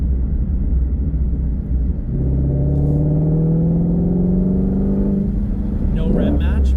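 A supercar engine revs with the clutch pushed in, its tone climbing steadily for a few seconds, loud and close over a low idle rumble before settling back down.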